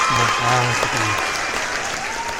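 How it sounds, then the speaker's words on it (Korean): Brief round of clapping from a small group of podcast hosts, close and steady over a couple of seconds, with a voice speaking over it at the start. "서로를 위해 한번 박수"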